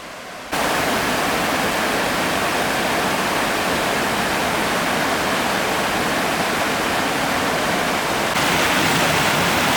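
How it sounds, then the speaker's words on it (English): A river rushing near Burney Falls on a forested trail, a loud, unbroken broadband roar of flowing water with no voices or other sounds. "we've made it to the river, even if we can only hear it"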